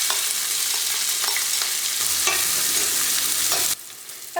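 Onions, green chilies and curry leaves frying in coconut oil for a chicken masala, a steady loud sizzle with stirring scrapes throughout, dropping suddenly quieter near the end, with no talking.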